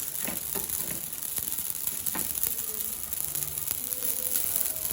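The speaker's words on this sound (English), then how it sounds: "1 big tablespoon of poppy seeds, fry everything for 30 seconds." Whole spices and a big spoonful of poppy seeds fry in a pan as garam masala is made, giving a steady crackling sizzle with scattered pops and clicks, close and even, with no talking.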